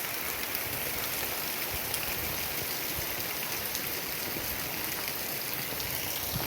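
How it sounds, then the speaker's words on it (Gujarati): Heavy rain pours steadily onto a farm field, a constant, loud hissing wash with scattered drop patters and no pauses or voices. "અને આ જમાવટ કરી દીધી છે વરસાદની."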